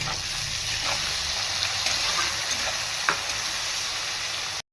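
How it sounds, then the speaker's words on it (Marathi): Chopped tomatoes hit onions already fried until reddish in a pan with bay leaves, giving a steady, close sizzle with a few brief crackles and stirring scrapes, no voices. "आता बारीक चिरलेला टोमॅटो आपण टाकणार आहे"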